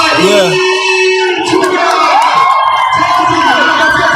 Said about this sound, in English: The crowd participates on the dunks.